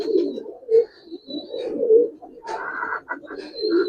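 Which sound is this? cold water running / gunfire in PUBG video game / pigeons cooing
pigeons cooing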